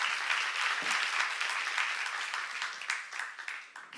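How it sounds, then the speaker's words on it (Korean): A church congregation at a Korean seminar breaks into applause, a steady wash of many hands clapping for a few seconds that thins out toward the end, with no speech over it. "박수하세요."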